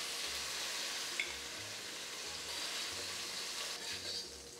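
Chicken frying in a wok for Chinese fried rice, a steady soft sizzle with a faint low rhythmic hum underneath and a couple of small ticks, close and fairly quiet, no talking.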